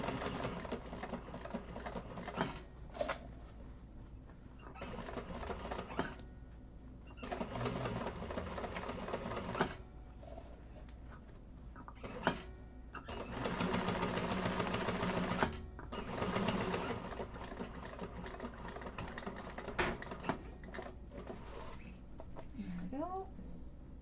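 A sewing machine topstitches a Maxine tote bag in steady runs broken by short pauses, quiet and mechanical under a person talking throughout.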